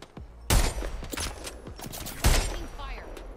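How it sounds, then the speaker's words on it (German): Sniper rifle fire in the shooter game Apex Legends, with two loud, sharp shots about two seconds apart, each trailing into a ringing echo, and a quiet voice briefly audible between them. "die Schussfrequenz von dieser Sniper ist echt heftig geil"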